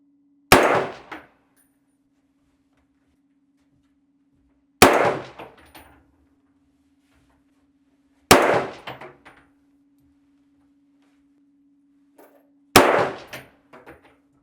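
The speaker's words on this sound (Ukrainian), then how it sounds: "Постріл." Four loud shots from a Heckler & Koch MR308 rifle, spaced a few seconds apart, each a sharp crack followed by a brief metallic ring from a steel target fading out.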